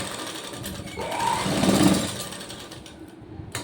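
A sewing machine stitching a joint on a blouse. Its motor whir swells to a louder run in the middle and then eases off, with steady mechanical rattle close up and no talking.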